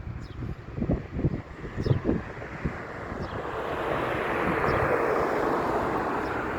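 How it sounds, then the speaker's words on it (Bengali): Strong gusty wind roars through trees outdoors, building into a broad steady rush after someone talks briefly at the start. "ভিডিওটা ওই যে বাতাসে গাছ দেখেন খুব সুন্দর, এই যে বাতাস ছাড়ছে।"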